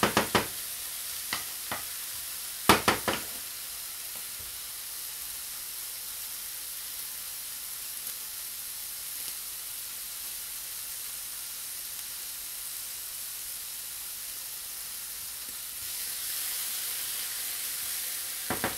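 Bacon sizzles in a dry pan with no oil, a constant bright hiss of fat crackling throughout, punctuated by a few sharp pops and clacks near the start.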